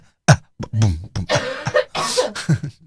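A person coughs right into a microphone, several sharp, loud bursts in quick succession, close and dry, mixed with throaty vocal noises as if beatboxing with coughs.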